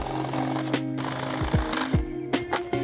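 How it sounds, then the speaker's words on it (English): A jigsaw cuts a Tacoma truck bed to fit an outlet, a steady close mechanical whine broken by short bursts, pitch drops and chattering pulses as the blade works through the panel. "I'm gonna get a jigsaw and cut this out."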